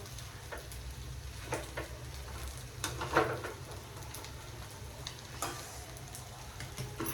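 Chilies frying in hot oil for Marathi fasting food, a steady low sizzle running throughout with occasional louder crackles and pops, no talking.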